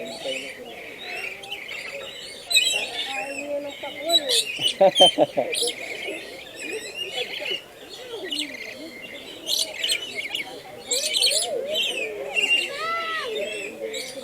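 Birds chirp and tweet repeatedly throughout at a safari and adventure park in Cebu, several calls overlapping at moderate distance, with a brief burst of louder calls and faint talking in the background.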